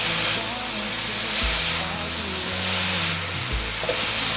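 Tofu being stir-fried with white pepper, sugar and salt over low heat: a steady, loud sizzle and hiss with a low rumble underneath, close by, with no one talking.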